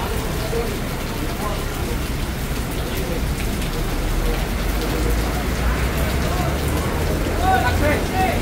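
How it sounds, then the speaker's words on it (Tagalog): Steady early-morning rain in the Philippines falls continuously on hard surfaces, a dense hiss with scattered drops, fairly loud throughout, with traffic-like rumble underneath. "Ulan po yan."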